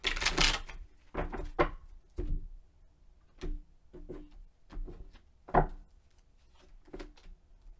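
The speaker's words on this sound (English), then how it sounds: "one more shuffle, and I'm going to lay this out" Tarot cards being shuffled in a series of short riffling bursts and taps, close and fairly quiet, with pauses between.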